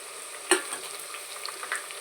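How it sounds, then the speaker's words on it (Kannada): Three medium onions, sliced lengthwise, frying in a pan with a steady soft sizzle, opening with a sharp metallic clink and followed by a few lighter scrapes of a spatula. "ಇದು ಸ್ವಲ್ಪ ಗೋಲ್ಡನ್ ಬ್ರೌನ್ ಬರೋ ತನಕ ನೀವು ಚೆನ್ನಾಗಿ ಫ್ರೈ ಮಾಡ್ಕೋಬೇಕಾಗುತ್ತೆ"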